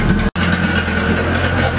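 A Nissan 240SX S14 engine idles steadily on its own, a continuous close, loud hum with a low rumble and no revving, broken only by one very brief dropout.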